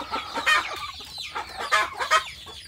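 Free-range village chickens and a rooster cluck nearby in short, irregular bursts of throaty clucks and squawks over quiet farmyard background.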